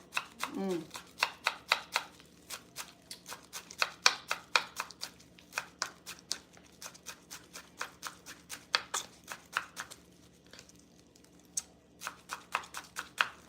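A knife chops green onions on a cutting board for crispy rolls in a rhythmic run of quick, close, crisp taps, with a few brief pauses and a faint voice early on.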